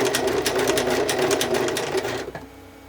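Sewing machine stitching a wide zigzag stitch at a short length, a close, steady rapid mechanical chatter that slows and stops near the end.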